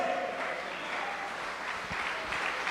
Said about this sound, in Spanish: ¿Cuánto le damos un aplauso al Señor en esta hora?